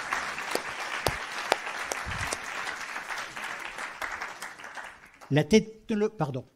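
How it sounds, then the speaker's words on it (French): A room of people applauds steadily for several seconds, the clapping fading out before a voice begins speaking near the end. "Je vais vous demander d'applaudir vos intervenants"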